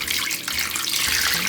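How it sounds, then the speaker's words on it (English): Water pouring steadily into a pot to cover beetroot, a constant close gushing and splashing like a running tap, with no talking over it. "put it in a pot, cover it with water."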